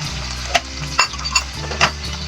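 Sardine sauce with garlic and onion sizzles steadily in a pan, with several sharp clinks of a utensil stirring against the pan; no talking.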